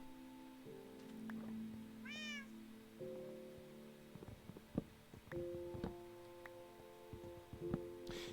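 A pet cat in the game Minecraft, played in hardcore mode, gives one short clear meow, with game music tones and soft scattered clicks and footsteps around it.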